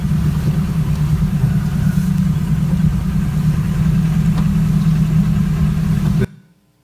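A tractor engine towing a stalled vehicle drones loud and steady at low pitch, with no change in revs, then cuts off abruptly near the end.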